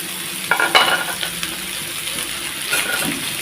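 Snake gourd dropped into hot oil for a vegetarian dish, a burst of sizzling and clattering as the pieces land, then a steady frying hiss with a few stirring scrapes.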